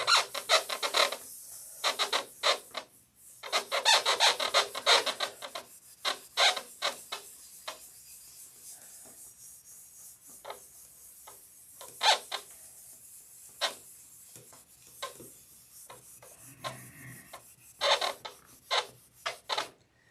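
A model airplane wing is being rubbed down by hand in quick, uneven bursts of raspy scrubbing strokes, some close together and others separated by short pauses, fairly close and with no voices.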